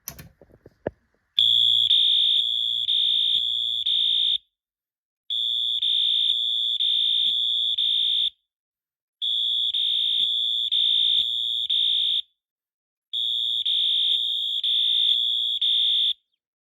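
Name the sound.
Eaton Wheelock Eluxa and MT horn strobes sounding code 3 horn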